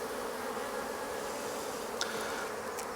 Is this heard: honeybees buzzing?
yes